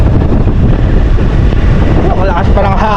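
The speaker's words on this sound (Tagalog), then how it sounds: "Ang lakas pa ng hangin." Strong wind roars and buffets the microphone throughout, a loud, constant rushing with a faint voice briefly audible near the end.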